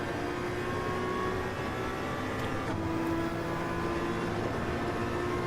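A race car in Gran Turismo 7 holds full throttle along a straight, its engine a steady, sustained whine that climbs slightly in pitch and stays moderately loud throughout, with no talking.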